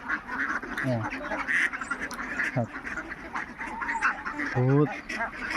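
Khaki Campbell ducks quack repeatedly in short raspy bursts, close by, over a busy background of other birds and someone talking.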